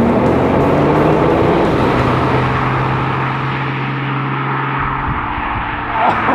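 A Porsche 911 Turbo S convertible accelerating hard, its engine roaring loud and close with rising and falling tones as it pulls through the gears, wind rush beneath, easing off near the end.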